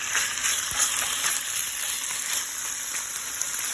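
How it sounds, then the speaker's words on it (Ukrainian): Meat goes into a hot pan of oil and fries with a loud, dense, continuous sizzle and crackle, close and steady throughout, with no speech. "в розігріту сковороду викладаємо наше м'ясо"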